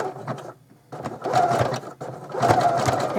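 Sewing machine running a zigzag stitch through a padded placemat and denim, whirring in two bursts with a short pause between, close and steady.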